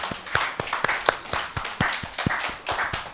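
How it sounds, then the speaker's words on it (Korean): Clapping from a church congregation at an evangelistic meeting, heard as a sparse run of distinct claps in a loose rhythm, roughly three per second, close and fairly crisp. "한번 박수 치겠습니다."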